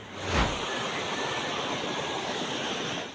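Rushing floodwater from an overflowing river in Mindanao roars in a steady, dense wash of noise, loud and close, with a brief heavier surge near the start and no voices.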